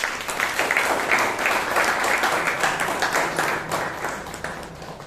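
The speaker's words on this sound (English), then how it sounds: "Let's give him a huge round of applause." An audience at a Bangalore Toastmasters meeting gives the Toastmaster a sustained round of applause, many hands clapping in a steady, moderately loud wash that pulses slightly throughout.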